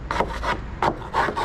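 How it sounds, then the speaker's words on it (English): Sandpaper rubbing old paint off a surface in prep for repainting, close and loud rasping strokes in an uneven back-and-forth rhythm. "So we have to sand and get rid of the old paints"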